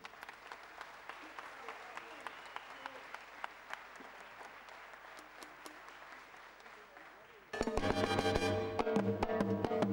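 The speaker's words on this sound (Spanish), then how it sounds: "El aplauso para él." A live salsa concert crowd applauds the bongo player in scattered, fairly distant claps before the band bursts loudly into music.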